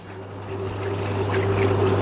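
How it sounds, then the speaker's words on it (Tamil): Water pours steadily into a cooking pot for fish curry in a continuous trickling stream that grows slightly louder, over a low background hum. "தேவையான அளவு தண்ணி விடுறேன்."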